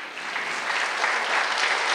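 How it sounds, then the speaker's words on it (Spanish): A church congregation breaks into sustained applause, a dense, steady wash of clapping that fills the whole moment with no pauses or voices standing out. "Venga el aplauso al Eterno."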